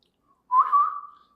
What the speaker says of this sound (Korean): 이게 보니까 휘파람.